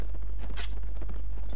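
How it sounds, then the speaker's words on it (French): Horse hooves in Mount and Blade Warband, a few soft, uneven thuds over a steady low game hum, moderately close and fairly faint, with no talking. "j'ai un cheval plus rapide que toi"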